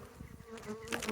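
Honeybees buzzing around a hive box as they fan at the entrance, a steady close droning hum with a faint higher whine rising near the end.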